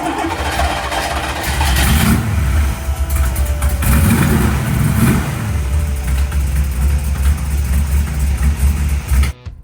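A loud carbureted car engine close by, revving up and settling back repeatedly in a rough, throaty rumble before cutting off abruptly.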